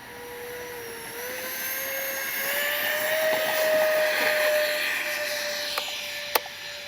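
Electric E-flite Airbus A320 neo RC model jet flying touch and goes, a steady ducted-fan whine that slowly swells and fades as it passes at moderate distance, with a couple of brief clicks near the end.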